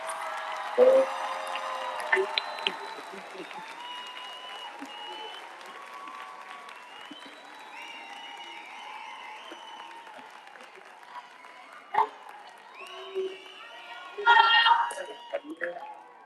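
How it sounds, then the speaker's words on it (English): Applause and cheering from a graduation audience for the graduating class of 2026, a broad crowd noise that stays under voices and ringing tones, swelling with louder bursts near the end. "giving another round of applause to the graduating class in 2026"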